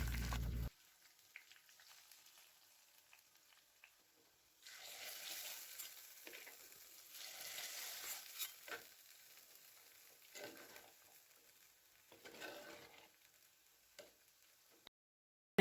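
Garlic and curry leaves fry in a pan with a soft, fairly faint sizzle that swells and fades in waves, with occasional stirring scrapes and a sharp click at the start.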